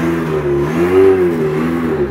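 A rock crawler's engine revs on a climbing course at a competition in Japan, a close, loud growl that rises and falls in pitch without any talk.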